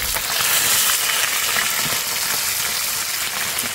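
Steady, dense sizzling and crackling of catfish frying in hot oil, continuous and close throughout with no voices.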